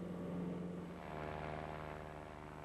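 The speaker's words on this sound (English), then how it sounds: "the aeroplane lifts off and rotates into the climb" Propeller aeroplane engine drones steadily as the aircraft lifts off and climbs, a continuous hum with a slowly shifting pitch, fairly faint and with no voices.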